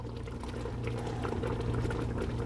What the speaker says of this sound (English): So look at the nature of the bubbling now.